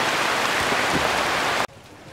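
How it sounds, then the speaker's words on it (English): Heavy rain pours loudly onto the roof of a waiting shed in the Philippines, a dense steady hiss that cuts off abruptly near the end. "Yeah, I'm stuck in the rain"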